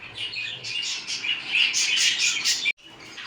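Dense, high chirping and tweeting from several small pet birds, budgies and a cockatiel, close by, continuous and busy, cutting off abruptly near the end.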